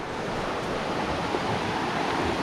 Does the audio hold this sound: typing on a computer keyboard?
no